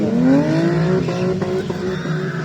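A Ford Fiesta stock car passes loudly during a race, its engine note rising and falling in a strong harmonic whine, with a steady roar of other race traffic underneath and no voices.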